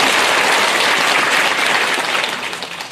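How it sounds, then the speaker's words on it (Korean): Loud, dense applause from a large crowd at an outdoor rally for truth and justice, a steady wash of clapping close up that swells and then slightly tapers over a few seconds. "다시 한번 뜨거운 박수 부탁드리겠습니다."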